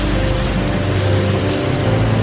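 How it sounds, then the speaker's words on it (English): Heavy rain pours steadily during a storm in Mexico, a dense, loud hiss of drops hitting surfaces with a low rumbling undertone, unbroken throughout and with no talking. "I am in the middle of a Mexican rainstorm."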